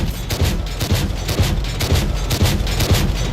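Rounds slam into an armored tank in World of Tanks, a steady rhythm of heavy thuds and bursts roughly every half second, loud and close, with no speech.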